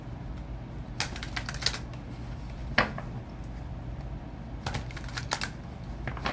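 Several bursts of crisp card shuffling and riffling over a low background hum, plus a sharp snap near the middle.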